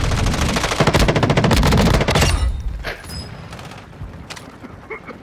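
Automatic gunfire in Call of Duty: Modern Warfare II, a loud sustained burst of rapid shots for about two seconds, then scattered, quieter shots and clatter.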